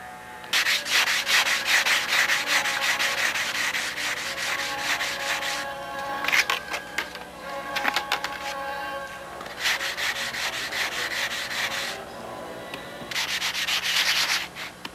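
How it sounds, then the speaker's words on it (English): Dried spackle is sanded smooth on a model Spitfire aircraft, giving a loud, close, continuous scratchy rubbing in long back-and-forth strokes with brief pauses between passes. "I want to get all these little blivets sanded out where all the spackle was"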